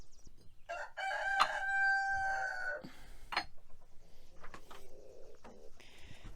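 A rooster crows once nearby, followed by scattered soft clucks and faint rustling.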